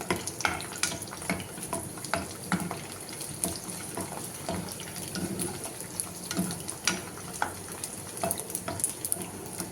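Garlic cloves frying in oil in a pan for tomato pickle, with a soft, continuous sizzle and crackle and occasional stirring clinks and scrapes, fairly quiet and close, no speech.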